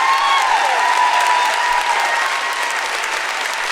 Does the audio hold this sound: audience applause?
yes